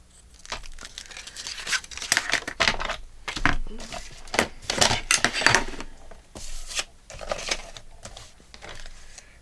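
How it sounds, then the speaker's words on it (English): Paper being cut and handled at a craft desk for a card, with repeated crisp snips, rustles and crinkles close up, the activity continuing steadily in bursts. "So this one is going to get cut right here."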